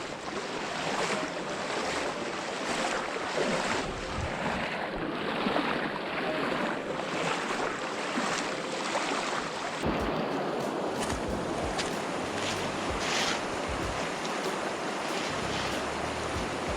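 Fast-flowing river water pours in a loud, unbroken rush, close by and steady throughout, with some wind buffeting the microphone.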